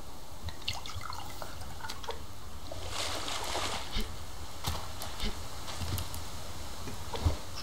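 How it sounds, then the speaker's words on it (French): Water trickles and drips into a canteen in the survival game Subsistence, with soft splashes and small droplet ticks over a steady low background, plus a few sharper clicks. "Faut que j'aille boire. Enfin, mettre de l'eau."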